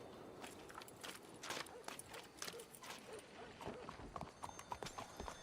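Horse hooves clip-clopping in the video game Red Dead Redemption 2, a steady rhythm of faint hoof strikes continuing throughout with light ambient background.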